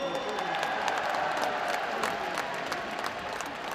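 An audience at a political party leadership campaign speech claps steadily for several seconds, a dense, even wash of applause with no voices standing out.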